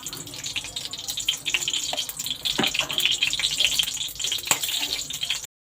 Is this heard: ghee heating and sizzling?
yes